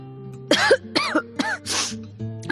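A burst of several harsh coughs close by, four or five in quick succession with short gaps, ending in a throat-clearing rasp.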